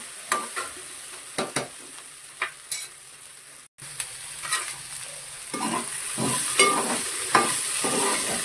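A spoon stirs okra curry (bendakaya) in a frying pan with light clinks and scrapes against soft sizzling, scattered strokes that grow busier toward the end, with no talk.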